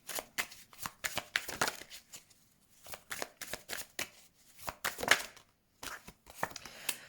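Oracle cards being handled and shuffled by hand, a close series of crisp riffling flutters and flicks in irregular bursts separated by short quiet gaps.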